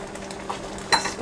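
A wooden spatula scrapes across a frying pan, loosening browned bits from braising oxtail; a short, close scrape with a sharp peak near the end over faint background sizzle.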